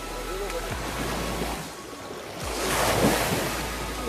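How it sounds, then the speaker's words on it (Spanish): Rough, choppy water on the Río de la Plata along the Costa Salguero shore in Buenos Aires, a continuous rushing wash with surges and wind across the microphone, with a low voice faintly underneath. "Enojado el río hoy."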